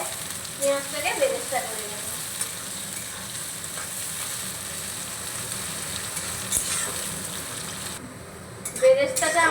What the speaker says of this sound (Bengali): এইরকম কালার করে বেরেস্তাটা ভেজে নিতে হবে